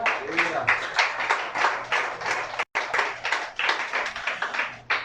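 A church congregation applauds, a dense, steady wash of clapping close by that swells and dips, with a brief voice at the start and a short break midway.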